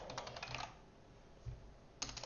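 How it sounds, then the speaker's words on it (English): A computer keyboard gets quick bursts of typing, a cluster of light clicks, a short pause with one soft thump, then another rapid run of keystrokes, close and quiet. "I am not good on the typing today."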